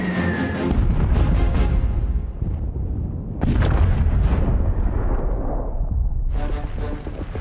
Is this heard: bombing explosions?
yes